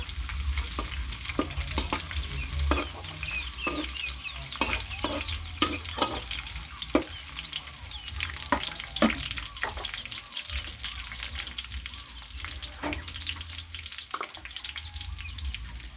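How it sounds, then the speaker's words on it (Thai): Chili stir-fried in a pan for a shrimp and cauliflower dish, a steady sizzle broken by repeated scraping clatters of a spatula against the metal, close and continuous throughout. "คั่วพริก"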